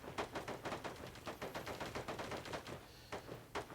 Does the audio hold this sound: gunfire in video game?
yes